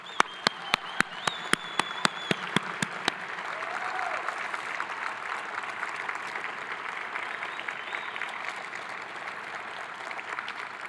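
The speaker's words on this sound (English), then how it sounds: "I'd like to give you a round of applause." Sustained crowd applause at a university hall of fame ceremony, a broad steady roar of clapping that carries on throughout, with a run of sharp regular clicks over the opening seconds.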